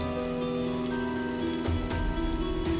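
Heavy rain pours steadily onto a surface, a dense continuous hiss with scattered drops and splashes throughout, no voices.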